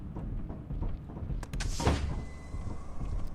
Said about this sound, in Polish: Otwórz drzwi, proszę cię.